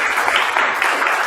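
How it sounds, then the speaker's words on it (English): Audience applause for sponsors at an industry outlook forum, a steady dense wash of many hands clapping throughout, fairly loud and close, with no speech over it. "So please give a round of applause to our sponsors"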